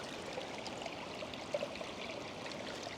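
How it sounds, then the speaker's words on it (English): Mountain water flowing in a stream in Spain, a steady close rushing and gurgling wash that fills the whole stretch with no break and no voices. "I want to feel the water that's coming from the mountains."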